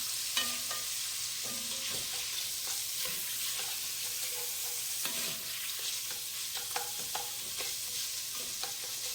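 Shrimp frying in a pan with pepper and salt, giving a continuous bright sizzle with scattered spatula clicks and stirring scrapes, close up and fairly quiet, with no voices.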